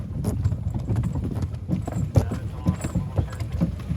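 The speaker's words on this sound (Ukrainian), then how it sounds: "бо зараз і коня запрягаю." Irregular hoof clops and shuffling thuds close by as a draft mare is harnessed, with faint clinks of metal tack; no clear voice.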